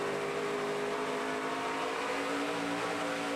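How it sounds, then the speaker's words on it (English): A NASCAR Camping World Truck Series truck racing at Rockingham, its engine roaring loud and steady as the driver pedals the throttle through the turn, a continuous harmonic drone with slight pitch wavering. "Listen to him pedal that throttle."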